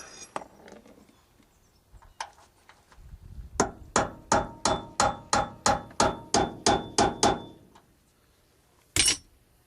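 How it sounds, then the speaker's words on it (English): About a dozen sharp metallic hammer taps in a steady rhythm, tapping a bushing into a 1988 Chevy door hinge, preceded by a few scattered knocks and followed by one final strike. "I'm going to use it to hold the bushing in there and tap it in with my hammer."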